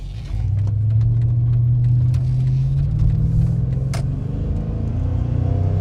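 A 1990s truck engine rumbles steadily from inside the cab while being driven on a wet road, a deep, loud drone that swells slightly as it pulls, with faint clicks and rattles on top.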